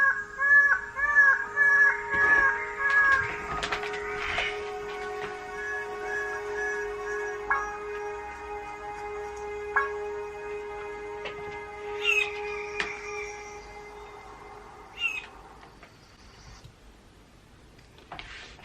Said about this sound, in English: Guys, I've never seen this kind of birds before, ever.